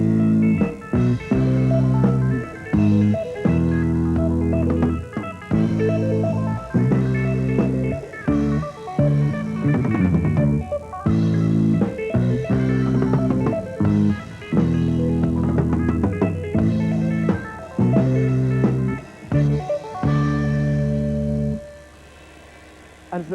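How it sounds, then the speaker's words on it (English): Rock band demonstration in which bass and drums play an accented counter melody against guitar arpeggio figures, a steady loud groove with punchy hits running throughout before easing off near the end. "the bass and drums can play a counter melody with accents against that"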